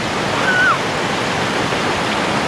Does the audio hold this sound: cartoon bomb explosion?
no